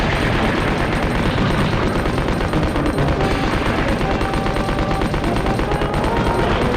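Rocket launcher blasts and sustained machine gun fire in the Resident Evil 2 game, a loud, dense, unbroken barrage of rapid gunshots and booms throughout.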